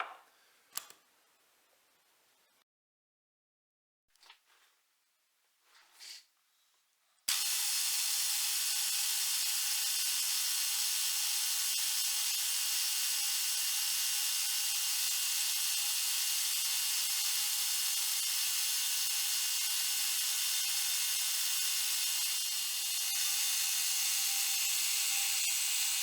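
Metal finishing on the inside face of a model steam engine's eccentric strap: a steady, unbroken abrasive rasp runs loud and close for nearly twenty seconds after a few faint taps and scrapes.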